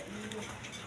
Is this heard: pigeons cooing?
yes